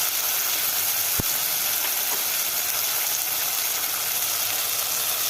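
Chopped green chili hits hot oil and sets off a loud, steady, close sizzle, a broad hiss that holds evenly throughout, broken once by a single sharp tick.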